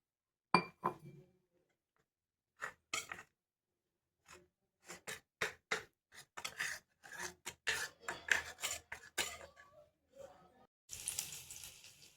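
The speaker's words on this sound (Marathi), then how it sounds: "कॉर्नफ्लॉवरची पेस्ट करून घ्यायची आहे पाणी टाकून थोडंसं." Cornflour paste is mixed with a little water in a small bowl for veg Manchurian, giving quiet intermittent scraping and rubbing strokes with a spoon, close by, separated by short pauses, with no talk.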